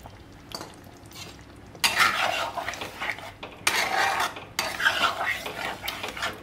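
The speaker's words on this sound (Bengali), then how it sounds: "ভালো করে একটু নাড়িয়ে নিয়ে এবার এটাকে একটু সামান্য পরিমাণে ফুটতে দেব" A spoon stirs chili chicken sauce in a pot right after arrowroot water is added, giving bursts of close scraping and swishing that come in three broad waves with quieter gaps between them.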